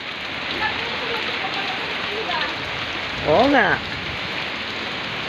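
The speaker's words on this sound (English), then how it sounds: "The rain is so very strong." Heavy typhoon rain pours steadily as a dense, close hiss throughout, with a brief spoken exchange partway through.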